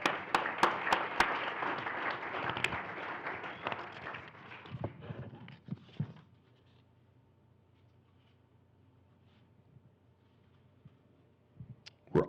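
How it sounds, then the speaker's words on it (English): An audience at a school-district honor roll ceremony claps for about six seconds, with some sharp individual claps standing out. The applause then drops into near silence, broken by a few faint sounds at the end. "Another round of applause."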